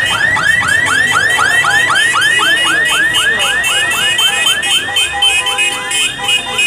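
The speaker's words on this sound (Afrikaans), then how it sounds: "Dis alarm." A loud alarm wails continuously in repeating rapid rising sweeps, like a car alarm siren cycle, sounding steadily throughout with no voices over it.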